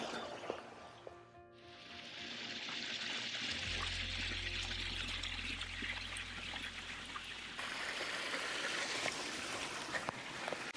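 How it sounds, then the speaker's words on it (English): Water pours steadily over a stainless steel weir into a custom architectural concrete backyard water feature in Vancouver, a continuous splashing trickle that grows fuller and louder after a brief quieter start, with a low rumble underneath. "Here we have this really beautiful custom water feature with architectural concrete."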